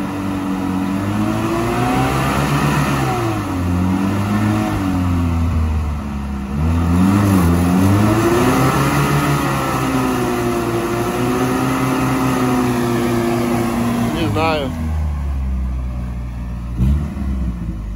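A Lada Niva off-road car revving at night, its engine droning loud and near with rising and falling pitch as it strains, then a sharp rev burst and drop near the end.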